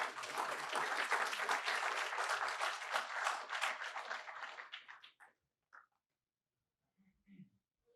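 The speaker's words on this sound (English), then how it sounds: "Please clap for them" Audience clapping at a forum during a hackathon at MIT, a dense burst that runs about five seconds, then fades out and stops, followed by near silence with a couple of faint sounds.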